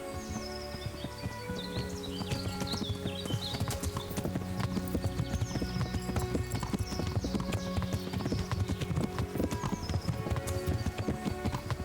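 Horse hooves clip-clopping steadily in the medieval game Kingdom Come Deliverance, a fast, close rhythmic gallop with birds chirping in the background.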